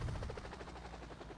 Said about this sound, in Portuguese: Uzi, cheguei de helicóptero.